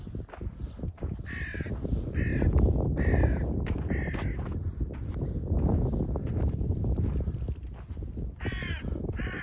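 Crows caw repeatedly in the desert near the Giza pyramids, loud harsh calls in irregular bursts over steady wind buffeting the microphone.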